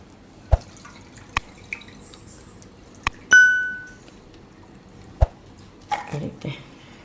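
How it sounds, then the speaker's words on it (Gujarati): Boiled peas and corn get rinsed in a bowl of water in a home kitchen, with scattered drips, light clinks against the container and a brief pour, close and quiet between the sounds. "અને ધોઈ નાખીશું આપણે એને."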